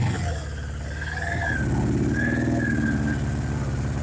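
A Suzuki GS750 motorcycle engine runs climbing a hill, a loud, close, throbbing exhaust note with a steady rumble and a brief rise in revs, with no talking.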